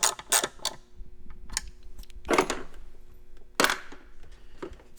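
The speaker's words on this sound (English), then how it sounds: "I can tighten down this bolt." Someone tightens a bolt on the ignition coil bracket of an SR20DET during a Z33/VQ coil pack swap. The result is a few sharp, close ratcheting clicks and creaks in short bursts with quiet gaps between.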